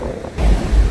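Ocean surf breaking on a beach in Goa during rainy, windy weather, with a loud rushing wash of waves and heavy wind buffeting close to the microphone, swelling midway through.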